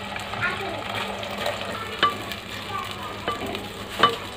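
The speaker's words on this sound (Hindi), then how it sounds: "इसी में प्याज को फ्राई कर लेंगे।" Onions frying in oil in a pan for dehati chicken, a steady crackling sizzle with a few sharper spatula scrapes and clinks scattered through it, no one talking.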